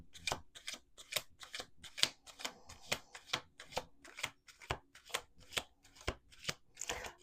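Playing cards shuffled in quick, evenly spaced riffling bursts, close and fairly quiet, repeating steadily without any talk.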